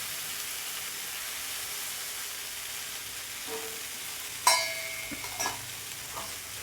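Paneer tikka fries on an iron tawa with a soft, steady sizzling hiss, broken by a sharp metallic clink and a few brief scraping stirs near the end.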